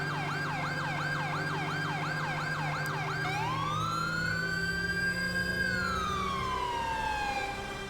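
An ambulance siren in the video game GTA 5 wails in rapid cycles, then switches to a long rising and falling tone, loud and steady over a low engine hum.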